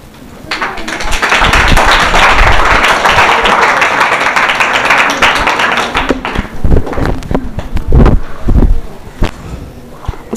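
An audience applauds a prize winner at a school prize event in Bhainsa, with sustained, dense clapping that later thins into scattered louder claps and thumps.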